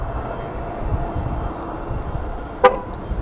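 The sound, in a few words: car horn honking when locking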